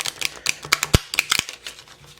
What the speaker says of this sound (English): I just want to make sure everything is shuffled